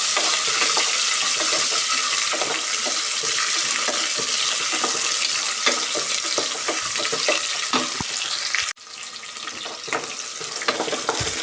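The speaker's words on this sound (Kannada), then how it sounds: "ಈರುಳ್ಳಿ ಒಂದು ಸೇರಿಸ್ಕೊಂಡು ಚೆನ್ನಾಗಿ ಈ ಥರ ಫ್ರೈ ಮಾಡ್ಕೊಬೇಕು." Chopped large onion frying in a pan, a steady dense sizzle with occasional stirring scrapes throughout, briefly dipping near the end before resuming.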